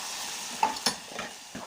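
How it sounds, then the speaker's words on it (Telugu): Fried corn snack with coriander powder and spices is mixed in a pan, giving a soft continuous sizzle with a few light scraping strokes, close but quiet. "ఇలా బాగా కలపాలండి."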